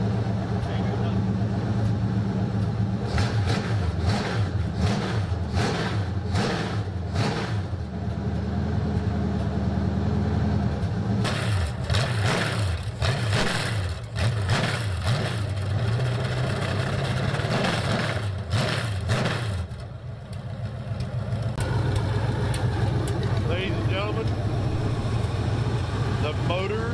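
Rebuilt Chevy 350 engine idling while tied down, a steady low rumble that runs throughout, close and loud, with clattering bursts over it and someone talking across much of it.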